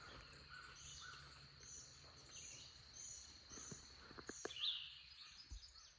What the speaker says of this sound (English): Just lots of bird sounds.